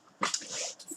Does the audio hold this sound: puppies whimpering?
yes